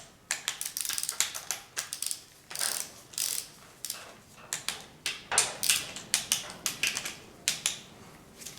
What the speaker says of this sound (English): So next step now is using the torque wrench.